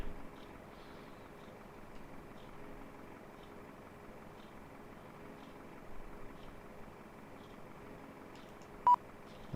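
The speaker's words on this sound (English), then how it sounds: "sorry about the beeping" A single short electronic beep sounds near the end inside a United Airlines cockpit in the FSX flight simulator, standing out over a steady low hum, with no talking.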